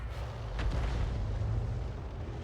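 An M12 self-propelled gun fires in World of Tanks, a single heavy boom that rolls into a dense, sustained rumble across the whole moment.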